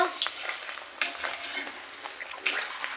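Egg-battered eggplant fritters frying in hot oil, a close, steady crackling sizzle with small pops and occasional louder spits, continuous throughout without talk.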